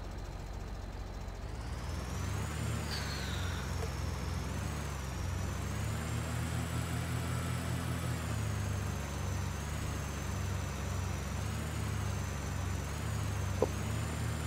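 A big tractor pulling a sprayer in a farming game, its engine droning steadily at a constant idle-like pitch throughout, with a faint short click near the end.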